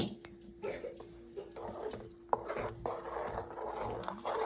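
Tempering being mixed into a chutney, with soft wet stirring and a few light clinks of a spoon against the bowl, close and quiet over a faint steady hum.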